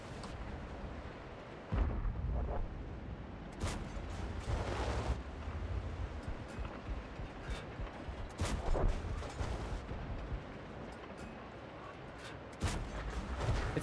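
Tank cannon shots in an online tank battle game, several loud booming blasts spaced irregularly over a continuous rumbling engine and battle background.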